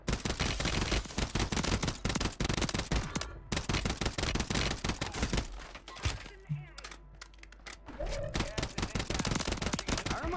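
Rapid automatic gunfire rattles through a multiplayer shooter video game, dense bursts of close, loud shots with short gaps and a quieter stretch in the middle.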